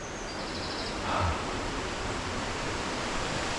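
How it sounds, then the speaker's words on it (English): A waterfall on a small stream at Stainforth gives a steady, broad rushing roar that holds at an even level throughout with no voices. "one last look at the waterfall before take off"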